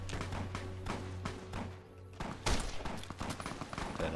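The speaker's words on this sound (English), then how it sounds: "Whoa, whoa, who's shooting?" Gunfire in the video game Fallout New Vegas comes as rapid repeated shots, a dense run of sharp cracks and thumps at moderate level, with one louder burst midway.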